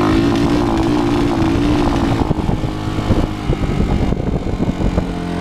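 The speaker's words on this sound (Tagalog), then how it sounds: "Kahit may goma siya, maingay pa rin yung tambutso niya." A 2012 Racal 150 enduro trail motorcycle idles with a loud, raspy exhaust that stays noisy despite a rubber fitting, running steadily and close up with some wind noise and no voices.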